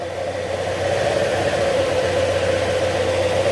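A Honda Click 125 scooter engine idles steadily while warming up after an overhaul, a close, continuous mid-pitched hum with a constant drone and no speech.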